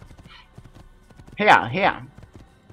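Hooves of a black horse clip-clop in the Assassin's Creed video game, with a brief whinny-like burst in the middle; someone speaks briefly over the gameplay sounds.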